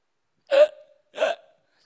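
Two distinct hiccups, close and clear, about three quarters of a second apart, each a short voiced gulp trailing off into silence.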